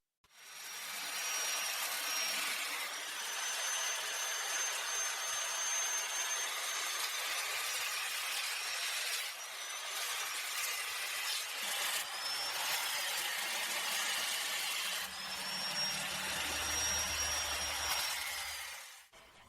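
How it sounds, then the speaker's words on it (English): An angle grinder works the outer surface of a wooden whiskey barrel's staves, a loud, steady, close whine that holds almost the whole time, with brief dips and pitch shifts as the disc bears into the wood. "To do this, we can use a grinder or an angle grinder."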